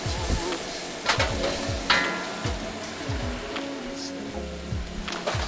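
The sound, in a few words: onions and chicken sizzling in a wok for kung pao chicken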